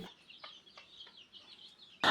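Faint, soft clucks and chirps from a native hen and broiler chicks repeat quietly through a calm stretch, then a sudden loud burst of noise cuts in at the end.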